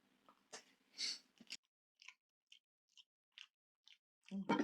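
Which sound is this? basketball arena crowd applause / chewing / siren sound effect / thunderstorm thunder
chewing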